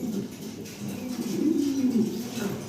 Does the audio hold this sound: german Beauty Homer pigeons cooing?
yes